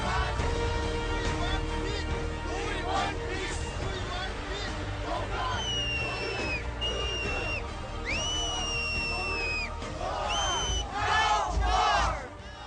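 A huge crowd of anti-war demonstrators at an Iraq war protest, with loud, dense chanting and shouting and rising whistles cutting through the steady roar.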